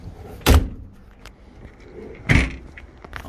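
The doors of a 2016 Toyota Land Cruiser GXL 76 Series shut with two solid thuds about two seconds apart, close by, with faint rattles in between.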